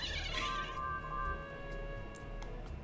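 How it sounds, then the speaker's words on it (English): A cat screams in the background with a drawn-out, wavering yowl that rises and sustains for over a second, heard fairly faintly beneath game noise. "If you hear my cat screaming in the background,"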